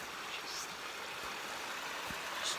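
Gentle river water along the Sturt Gorge track in South Australia, a steady soft wash of flowing water with a couple of faint higher trickles, continuous and unhurried with no voices.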